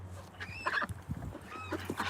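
A male duck outdoors in snow gives a few hoarse honking calls at moderate distance, irregular and spaced out over a low steady hum.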